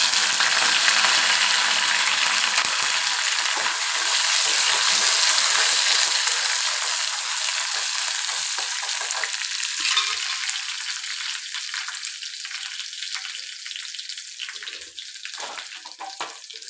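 Coconut rice and beef cooking Kerala style in a pan: a close, loud sizzle and crackle of frying that gradually quiets and thins out over the clip.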